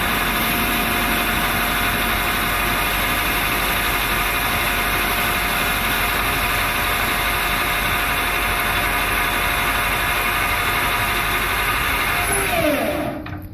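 A metal lathe drones continuously at a steady pitch while taking a final cut on a brass tuba part, loud and close with a constant hum and hiss, then spinning down at the very end.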